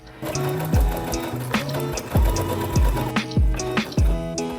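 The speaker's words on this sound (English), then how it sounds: "So I'm gonna sew around my armhole, lift my needle, skip that part, sew the front, skip that part, and then do the back armhole" A sewing machine stitches around the armhole of a shift dress in short whirring runs with brief pauses between them, each burst starting and stopping sharply, close and clear with no talking.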